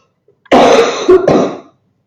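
Close, harsh coughing and throat clearing in two quick bursts, loud and alone with silence around it.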